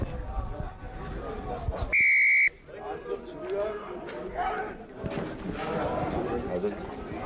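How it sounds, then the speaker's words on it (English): A referee's whistle at a youth rugby match between an academy side and a club team, one sharp loud blast of about half a second amid outdoor crowd chatter and shouting. "Okay, Ali, wait for my whistle."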